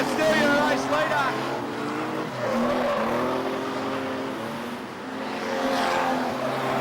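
A field of modified production race cars roars past at Maryborough Speedway, engines droning and rising in pitch as they sweep by, the noise steady and loud throughout, with a commentator talking over it.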